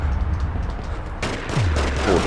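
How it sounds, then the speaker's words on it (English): Gunfire crackles in a London crime game, The Getaway, a sharp close shot or two rising out of a dense rumbling background, with no talking. "Who's shooting at that?"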